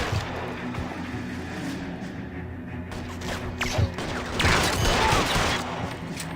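Gunfire in the L.A. Noire video game, a few sharp shots cracking through a dense, continuous wash of in-game action noise, with a heavier burst of activity toward the end.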